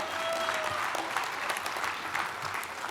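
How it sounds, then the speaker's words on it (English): A graduating class at a Columbia University Law School graduation ceremony applauds, a broad, steady crowd clapping in a large space, moderately loud with faint crowd murmur. "Applaud yourselves."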